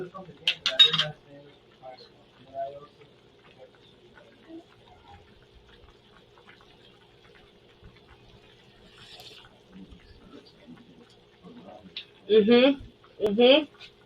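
Cutlery clinks against a dish of broth, with light scraping and water-like sounds. Brief clatters come early and again near the end, with quiet speech in between.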